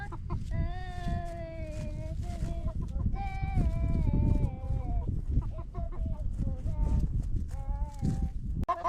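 Sheep bleat repeatedly with wavering cries on a farm, mixed with chicken clucking and other livestock noise, close and fairly loud, with people talking at times.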